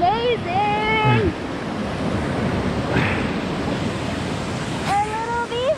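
Steady, loud roar of rushing water at the base of Cabin Falls in the Canadian wilderness fills the recording, with excited shouting voices near the start and again near the end.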